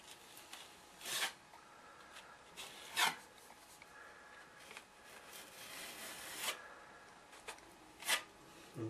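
A 2.5-inch putty knife scrapes and presses filler into a chipped MDF baseboard, giving quiet rasping strokes with sharper swipes spaced every couple of seconds, close and faint with no talking.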